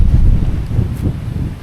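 Strong wind buffets the microphone outdoors on a sunny day during a run, producing a loud, continuous low roar that swells and eases without a break.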